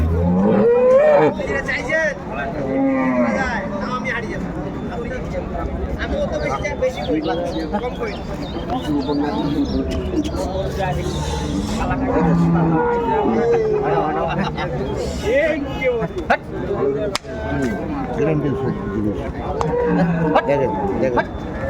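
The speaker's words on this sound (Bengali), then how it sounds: "বেশ সুন্দর একটি গাভী বাছুর" A milk cow and her calf moo among the cattle at Ambari market in Dinajpur, several loud calls rising over a dense crowd hubbub with people talking nearby throughout.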